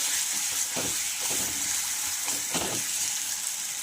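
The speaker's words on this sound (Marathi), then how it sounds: "भरीत घालून घेतल्यानंतर असं फ्राय करायचं आहे" Eggplant bharta frying in a pan with cumin and mustard seeds, giving a steady close sizzle with a few stirring scrapes over it and no voices.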